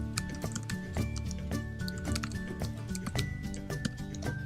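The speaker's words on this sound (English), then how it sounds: "to enter things into the Eclipse editor, place the cursor where you want it and then start typing" Typing on a computer keyboard while entering code in the Eclipse editor, a steady run of light clicking keystrokes under a continuous background tone, with no talk.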